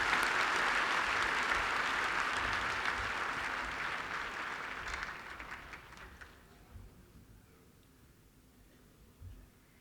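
Applause from the audience at a Golden Jubilee celebration of the National Federation of the Blind, welcoming a minister to speak. Steady, dense clapping fills the hall for several seconds, then thins and fades to a few scattered claps.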